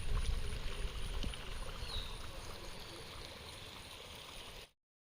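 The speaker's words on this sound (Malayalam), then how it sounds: "വെള്ളച്ചാട്ടത്തിൻ്റെ അടുത്തെത്തി." Water flows steadily at Mamalakandam Waterfalls in Kerala, a faint continuous rush and trickle heard close by, alone, until the sound cuts off at the end.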